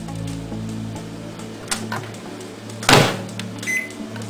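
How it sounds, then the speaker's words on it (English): Microwave oven humming steadily while heating thinly sliced potato chips, a low constant drone with a few clicks and a brief louder rattle near the end, close by. "put them in the microwave."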